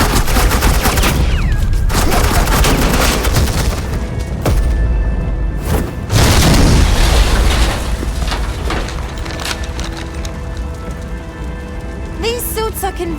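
Suppressing gunfire in Batman: The Enemy Within, a loud, dense game mix of rattling shots and booms running throughout, with a harsh burst near the middle and busy effects layered over a steady background.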